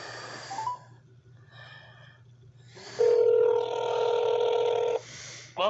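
A phone call to Verizon connects with a few faint dialing beeps, then a steady outgoing ring tone holds for about two seconds before a brief burst of tones.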